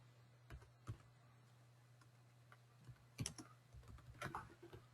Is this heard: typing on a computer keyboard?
yes